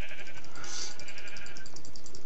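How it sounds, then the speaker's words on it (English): A sheep bleats once in a video game, a clear mid-length bleat standing over a faint steady background hum. "Oh, that's a sheep."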